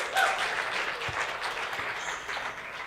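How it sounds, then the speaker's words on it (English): An audience at a live talk gives a round of applause, moderate and continuous, with a few faint voices mixed in. "Give her a round of applause"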